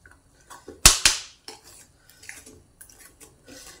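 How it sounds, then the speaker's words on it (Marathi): A spoon stirring a moong and jowar flour batter in a pot, with light scraping and scattered clinks, two sharp metallic knocks near the start standing out, then quieter intermittent stirring. "चांगलं हे मिक्स करायचं"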